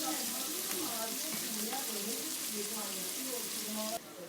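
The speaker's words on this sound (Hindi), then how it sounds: "यहाँ पर मैंने प्याज को गोल्डन ब्राउन कर लिया है" Onions frying in a pan until golden brown, a steady close sizzle with faint stirring scrapes that continues evenly for several seconds and then drops abruptly quieter near the end.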